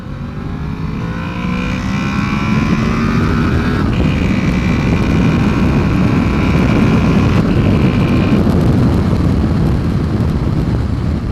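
A 2014 Honda VFR800 motorcycle engine revs hard under load, a loud continuous roar with rising and falling harmonic tones as it climbs past 7,000 rpm, with wind rush throughout and no talking.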